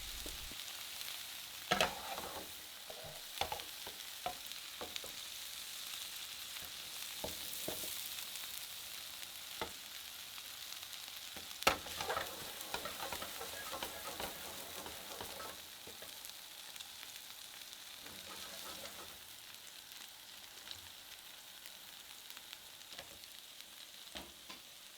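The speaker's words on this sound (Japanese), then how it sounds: "ムース状になっているバターの中でキュイソン仕上げていきます" Veal tenderloin finishing in foaming butter in a pan, a steady soft sizzle and crackle running throughout with occasional sharper pops, fairly quiet and close, no voices.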